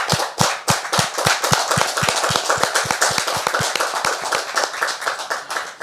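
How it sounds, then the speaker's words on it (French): A studio audience on a French talk show applauds a guest, a loud run of sharp, fast handclaps that continues steadily for several seconds, with no talking over it. "Est-ce qu'on peut faire mention spéciale pour elle par des applaudissements,"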